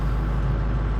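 A vehicle engine idles while parked, a steady low rumble that stays loud and close throughout, with nothing else heard over it.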